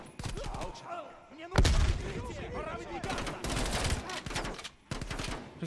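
Gunfire in Call of Duty Cold War sounds in several loud bursts of rapid shots, broken by brief pauses, with voices talking beneath and between the volleys.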